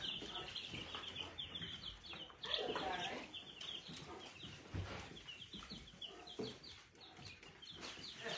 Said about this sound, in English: Here's the little chickens.